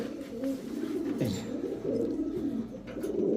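Racing pigeons coo in low, throaty, rolling calls, repeating continuously and close at hand.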